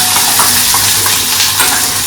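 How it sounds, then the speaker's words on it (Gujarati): Chillies drop into hot oil tempered with fenugreek and white sesame, giving a loud close-up sizzle with stirring throughout this short stretch. "મરચાં નાખી દઈએ."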